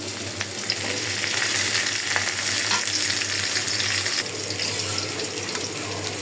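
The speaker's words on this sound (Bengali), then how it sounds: "মাছও 2টা ভাজা হয়ে গেছে।" Oil sizzles and crackles steadily as fish fries in a pan, a constant close hiss with faint clinks and no talking.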